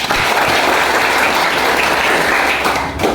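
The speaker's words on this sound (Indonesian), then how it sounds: "Tepuk tangan dulu." Loud, dense applause from a classroom of students during a teaching session, a steady wash of clapping filling the whole stretch before tapering slightly at the end.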